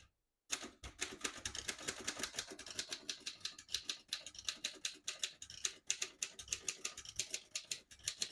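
Rapid, steady keystrokes on a 1936 Royal O Model vintage portable typewriter, each strike crisp and close, with continuous rhythmic clacking and no talk.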